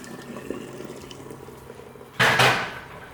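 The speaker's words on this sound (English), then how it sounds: "when you pour it into the colander, pour cold water on top of it" Cold water poured over cooked rice in a colander for tachin, a sudden loud rush of splashing liquid lasting under a second, then a softer trickle fading out after quiet kitchen background.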